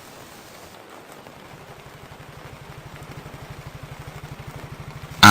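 Steady rain hisses down in an outdoor forest setting while a motorcycle engine idles nearby, its low pulsing throb growing gradually louder over the continuous wash of rainfall.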